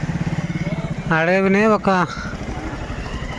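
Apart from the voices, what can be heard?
many motorcycles on forest pilgrimage road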